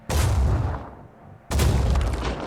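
Two heavy cannon shots fire in Phoenix Point, a tactical video game, each a loud broadband boom with a rumbling tail, the second hitting about a second and a half after the first.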